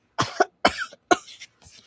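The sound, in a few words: narrator imitating a character coughing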